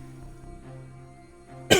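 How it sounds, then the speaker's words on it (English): A single sharp cough bursts out at the very end after a quiet, humming stretch. "Oh, the cough. Oh, the cough."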